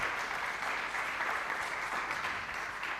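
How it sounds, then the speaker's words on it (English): Conference audience at the Berlin Climate and Security Conference applauding a speaker, a steady, moderately distant wash of clapping that holds evenly throughout. "Please give her a round of applause."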